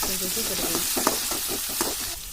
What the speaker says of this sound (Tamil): அப்புறம் தக்காளி சேர்த்து நல்லா வதங்கணும்